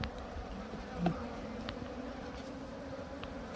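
Steady buzzing of super-resistant native Korean honeybees at a mating apiary on an island, a continuous close swarm hum with a few louder passes of individual bees.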